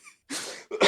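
A man coughs right into a close microphone, a faint throat sound followed by two sharp, harsh coughs in quick succession, loud and near.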